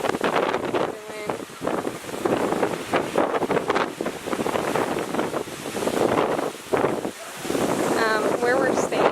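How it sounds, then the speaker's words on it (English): Strong wind from Category 4 Hurricane Lane roars across the shore on Maui, Hawaii, buffeting the microphone in continuous loud gusts, with waves and surf churning underneath throughout. "The wind is blowing the waves the opposite direction."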